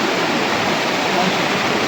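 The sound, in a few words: floodwater flowing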